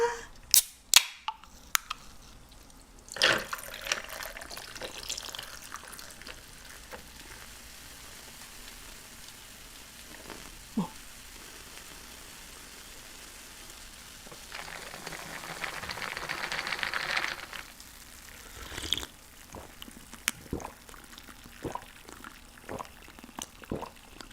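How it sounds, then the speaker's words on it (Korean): A can of cola snaps open with a sharp crack, and a fizzy pour follows a little later. The sounds come in short bursts against quiet kitchen background, with a few other clicks and taps around them. "먼저 콜라부터 따고 갈까요?"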